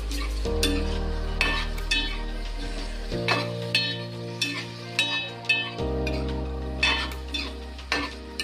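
Prawn curry stirred in a pan with a spoon scraping and clinking against the metal in repeated strokes, over a steady close sizzle of frying.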